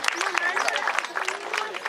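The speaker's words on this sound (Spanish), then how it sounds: "con un fuerte aplauso" An audience at a falconry bird show at the Oceanogràfic in Valencia claps steadily and fairly close, with the applause continuing for a couple of seconds and voices mixed in.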